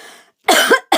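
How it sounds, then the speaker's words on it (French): Two sharp, harsh coughs close up, the second cut short, after a brief quiet pause. "je tousse toujours"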